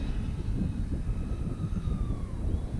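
An FMS A-10 Thunderbolt II 70mm EDF radio-controlled jet passing over a field at reduced throttle, a steady whining ducted-fan tone shifting in pitch over a constant rumbling wind-like roar, with no voices.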